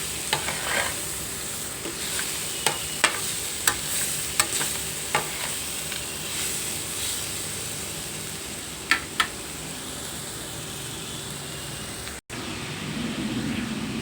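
Black cardamom frying in a pan for carrot rice, a steady close sizzle with scattered sharp clicks and scraping taps from stirring throughout, a brief cut near the end, and no voices.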